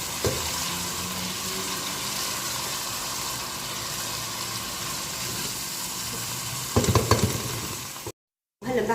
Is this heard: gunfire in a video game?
no